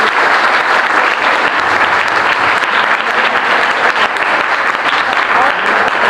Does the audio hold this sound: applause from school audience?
yes